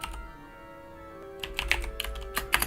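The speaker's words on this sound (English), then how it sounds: "I have to type it again." Close computer keyboard typing while working on React.js code, a quiet pause followed by a quick burst of brisk, uneven key clicks with no one speaking.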